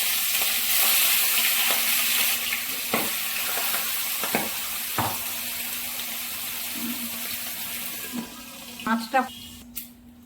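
Fish fries in hot mustard oil in a kadai, a steady bright hiss throughout, with scattered taps and clinks of a utensil against the pan and a few louder knocks near the end.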